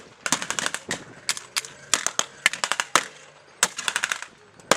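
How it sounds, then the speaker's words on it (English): Rapid bursts of machine-gun and rifle fire crackle through a World War II-style battle between German and American forces in a video game, sharp and close with short pauses between volleys. "now they're starting to put fire down on the Americans on the ground"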